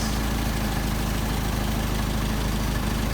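Steady, even idle of a car engine fitted with Solex carburetors, a constant low rumble with fine rhythmic pulsing that holds throughout, close and loud with no talking.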